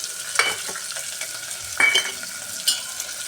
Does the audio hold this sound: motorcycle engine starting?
no